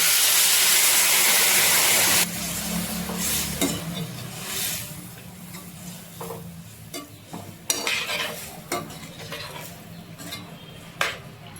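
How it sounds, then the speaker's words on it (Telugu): Dried prawn curry with chilli powder and water simmers and sizzles in a pan, first a loud steady hiss of frying, then quieter bubbling with scattered clinks of a spoon stirring against the pan, no voices. "డీప్ ఫ్రై చేసుకున్న రొయ్యలు 10 నిమిషాలు మగ్గనిద్దాం అండి"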